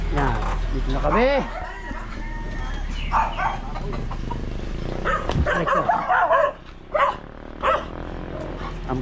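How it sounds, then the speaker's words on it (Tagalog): Several dogs bark in bursts close by, mixed with people talking and a rooster-like cluck, busy and overlapping throughout. "Ang babait ng mga aso."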